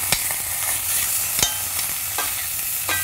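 Lamb shanks sear in a hot pan, a close, steady sizzle with several sharp knocks and scrapes as the meat is turned.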